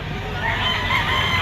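Roosters and chickens at the Lipa Auction Market in Lipa, Batangas, crowing and clucking amid a steady, busy crowd din that swells slightly partway through.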